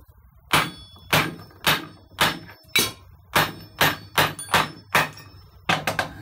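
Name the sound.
hammering an iron bar to drive in a Golf 3 rear bearing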